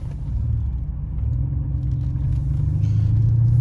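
Inside an Audi SQ5 in dynamic mode on a ring road, a steady low engine rumble and road noise fill the cabin, with a slight rise in engine note near the end.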